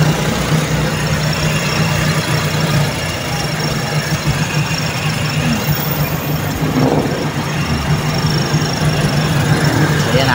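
A Toyota Corolla 4AF carburetor engine idles with its cold start system working and a faulty TVSV, a steady low hum with faint mechanical ticking throughout.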